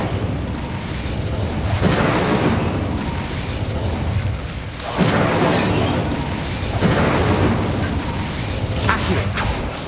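Fiery bursts and roaring blasts from an Incendio fire spell in Hogwarts Legacy, several loud whooshing eruptions swelling and fading over a dense game soundscape, with no talking.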